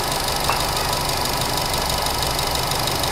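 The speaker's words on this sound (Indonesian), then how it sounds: "Jadi untuk suara mesinnya mobil ini halus" A 2012 Nissan Grand Livina XV automatic idles smoothly up close, a steady, even engine hum and whir with no knocks or rattles, constant and alone.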